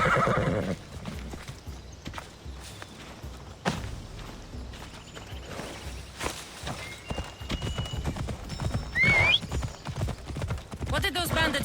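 A horse in Assassin's Creed Odyssey clops along at a quick pace and gives a clear neigh, with hoofbeats and creaking tack under ambient game sound and intermittent voices.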